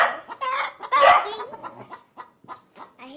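Chickens clucking and calling to one another in a close, lively series of squawks and short clucks, with a louder burst near the start and quieter intermittent clucks after.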